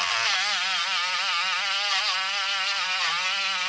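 A cordless engraver bought from AliExpress runs at high speed, producing a loud, continuous whining buzz with a slightly wavering pitch, close up and steady throughout with no voices.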